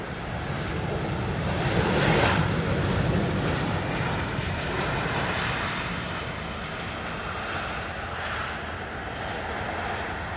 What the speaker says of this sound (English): This Airbus A321 landed and bounced,